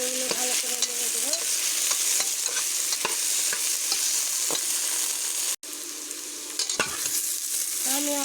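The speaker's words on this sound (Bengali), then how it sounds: "তো এগুলো ভালো করে নেড়ে দেবো।" Tilapia pieces and taro frying in oil with chili powder, stirred with a spatula: continuous close sizzling broken by repeated scraping and clinking strokes against the pan.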